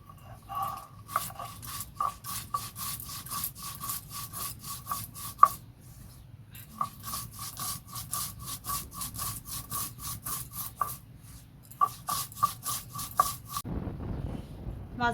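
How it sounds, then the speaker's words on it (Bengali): Coriander and cumin seeds are ground together into a paste by hand, a steady rhythmic rasping of stone strokes in two long runs, close and alone, with a short pause between. "ধনে জিরে একসাথে বেটে নেব।"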